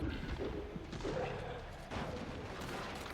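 Sticky bomb blasts in the Sons of the Forest video game come through as dense, sustained rumbling bursts of gunfire-like explosions, loud and continuous throughout.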